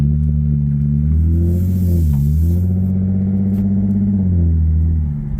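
A Lexus IS 250 fitted with a carbon intake pulls away, its engine a loud, close, steady drone that dips briefly in pitch and then swells again as it drives off, with no talk.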